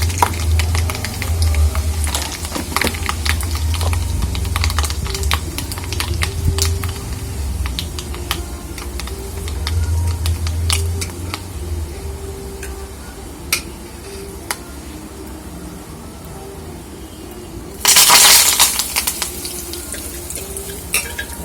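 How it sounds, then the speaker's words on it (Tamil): Mustard seeds crackle and pop in hot oil, with dried chillies added, scattered sharp spits over a low background hum, with a sudden louder sizzling burst near the end. "கடுகு வெடிக்கும்போது வத்தலையும் சேர்த்து"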